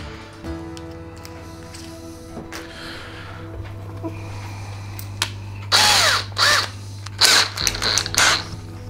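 A power drill with a steel bit bores into a steel lintel in a few short, loud, whining bursts with pauses between them, near and close, after a quieter stretch of low hum and small handling noises.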